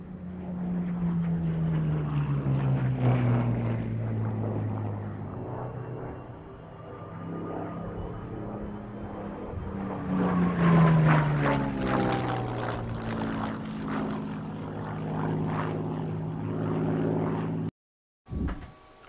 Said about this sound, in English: Here they come from the right this time, ladies and gentlemen. The historic aircraft collections, Hurricane 12 and historic flyings